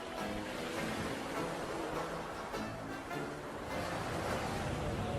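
Churning waves on the Sea of Galilee stirred by a rising breeze, a steady, dense wash of surf and water noise that fills the whole stretch without pause, with no voices.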